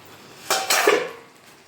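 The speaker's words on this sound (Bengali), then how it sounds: "আমি এবার এই নোড়াটা উঠিয়ে দিচ্ছি। আর চাপা ঢাকাটাও আমি খুলে দিচ্ছি।" A stone pestle weight lifted off a pan lid, then the lid opened, giving two sharp metallic clanks followed by a short ringing rattle, close and clear in a quiet kitchen.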